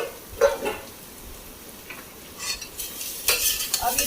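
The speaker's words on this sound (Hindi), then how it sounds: "तब तक भूनना चाहिए मसाले को" A spoon scrapes and stirs onions and masala frying in a pan for chhole, with soft sizzling and a few louder metallic scrapes toward the end, close up and without talk.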